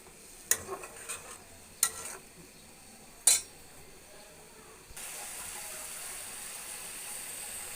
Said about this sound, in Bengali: এখন আমার মশলাটা কষানো হচ্ছে